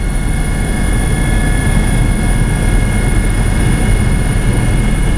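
Constant high-pitched whine and buzz of an RC helicopter flying fast at the Alpine Heli Smackdown field, loud and steady throughout with sustained tonal rotor hum.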